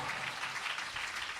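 A church congregation clapping loudly in praise during a sermon, a continuous wash of many hands applauding together, somewhat distant and even in level, with no talk over it.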